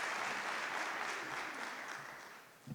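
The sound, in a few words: audience applause welcoming a speaker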